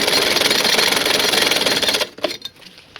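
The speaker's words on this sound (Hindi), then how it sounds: "रबड़ के पास हमें मशीन से खिंचवाना है और सिलाई लगाना है" Electric sewing machine stitching elastic onto pleated saree fabric, a fast, even mechanical whirr running steadily for about two seconds before stopping, followed by a few faint handling clicks.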